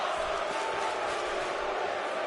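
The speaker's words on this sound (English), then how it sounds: "Crowd chanting, "This is awesome."" Wrestling crowd at a tag team title tournament chanting in unison, a dense, steady roar of many voices filling the arena for a couple of seconds.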